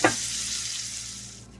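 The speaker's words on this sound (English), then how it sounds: "Put your stove on low and add the peppers and just do that for two minutes." Steady sizzling of peppers frying in a pot on a low stove, a continuous hiss at even loudness with a faint hum underneath.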